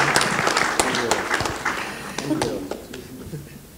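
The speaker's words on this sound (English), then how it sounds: "can we have a loud round of applause for all the women in the house" An audience at a panel discussion applauds with a dense spatter of clapping that gradually tapers off, while a voice talks over it.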